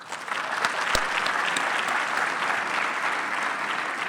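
Sustained audience applause for a sponsor at a youth careers expo breakfast, a full, even wash of many people clapping with a few sharper claps close by, moderately loud and steady throughout.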